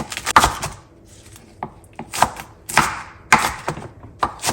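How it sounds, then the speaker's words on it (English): Knife chopping washed lettuce on a cutting board, about seven sharp crisp strokes at an uneven pace, close and loud with quiet gaps between. "I have washed my lettuce thoroughly, and I'm just gonna chop it up"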